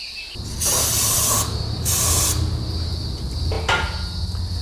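Two long bursts and a shorter third burst of degreaser aerosol sprayed onto a brake caliper bore during a disc brake rebuild, loud and close with a bright hiss, over low workshop background hum.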